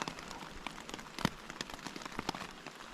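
Rain falls at a lakeside camp on a French River canoe trip, scattered drops tapping and pattering irregularly against a surface close by, fairly quiet with no voices.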